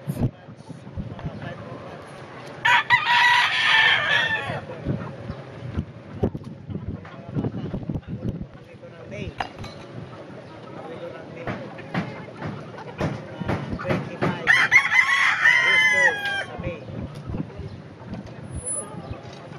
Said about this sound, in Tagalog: Yan yung mga alaga kong manok.